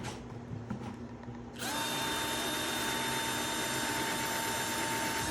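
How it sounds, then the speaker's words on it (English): A screw gun drives screws into a deer antler plaque mount, spinning up abruptly after a quiet moment into a loud, steady, high-pitched whine held close by until the end. "So take the old screw gun."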